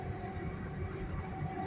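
A GWR Class 800 IET train running between stations near Truro, heard as a steady low rumble and rolling hum from inside the carriage, continuous and moderately loud with no voices.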